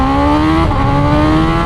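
A BMW S1000RR superbike accelerates in rain mode, its loud, close engine note climbing steadily with a brief dip partway through before pulling up again. No voices are heard.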